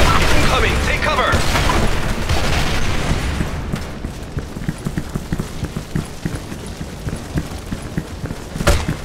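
Grenade blasts in the video game Special Force 2, a loud rumbling boom fading into crackling debris and scattered pops, with a final sharp burst near the end.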